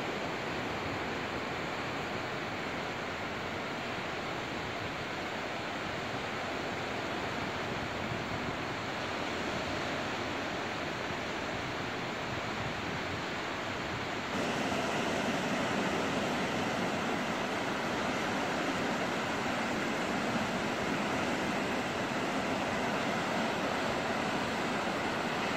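Sea waves wash onto the shore near Tūja on the Latvian coast, a broad, steady hiss and rumble of surf that grows louder partway through, with no voices.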